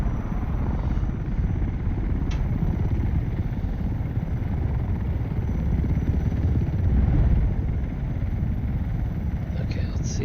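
Ornithopter engine in the video game Microsoft Flight Simulator, a loud, continuous helicopter-like rotor drone with a steady low rumble throughout, unbroken and close.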